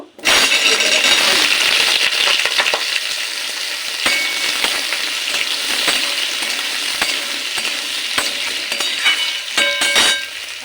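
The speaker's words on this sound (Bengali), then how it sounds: "পোস্তর আলুটা একটু লাল করে ভাজতে হয়" Potatoes for alu posto frying in hot oil with panch phoron and a dried red chilli, a loud, close, continuous sizzle broken by scattered clinks and scrapes of a spatula stirring against the pan.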